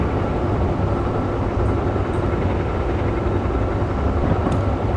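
Steady, loud train engine drone in Train Sim 2013, a continuous rumbling roar with no breaks as the locomotive builds a little throttle while running at speed.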